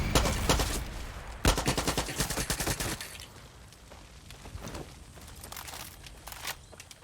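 Pistol gunfire in Far Cry 6, heard as loud rapid strings of shots in the opening seconds that give way to quieter scattered pops and rustling.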